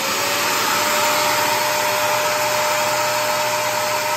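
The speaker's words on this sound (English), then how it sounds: "And now we're gonna turn on this little vacuum cleaner" A small vacuum cleaner powered by a LiFePO4 100 Ah battery bank runs with a loud, steady, high whine and airy rush that holds unchanged throughout.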